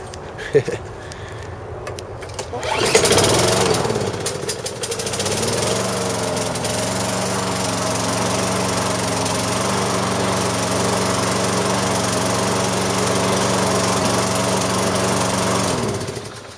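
A small engine cranks and catches after about three seconds, then keeps running at a close, loud, steady idle with a slightly uneven, sputtering tone until it cuts off near the end.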